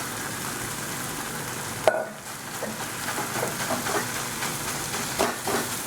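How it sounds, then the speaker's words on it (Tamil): Vermicelli (semiya) goes into a hot pan with half-cooked vegetables for semiya kichadi and is stirred: a continuous sizzle with a single dull knock, then light scraping and crackling as it is tossed. "இப்போ இந்த சேமியாவை தட்டிக்கிறேன்"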